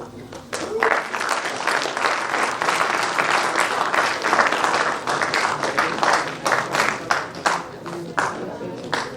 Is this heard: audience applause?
yes